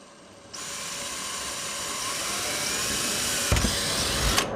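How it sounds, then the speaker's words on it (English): A power drill starts abruptly and bores steadily into a Mustang S550 bumper with a continuous high whine close by. A few bumps and clunks come near the end. "he's gonna go ahead and drill right now"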